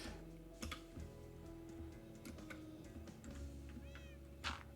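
A cat meows faintly over a steady background with scattered ticking and clicking sounds.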